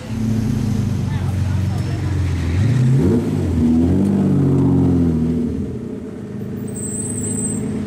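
A Lamborghini Diablo sports car drives past nearby, its engine note rising and falling through a revving pass, loud and throaty before easing off toward the end amid traffic rumble.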